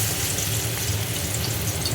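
Fish-stuffed kakrol (teasel gourd) fries in hot oil, a steady, close sizzle and crackle holding at an even level throughout, with no voices over it.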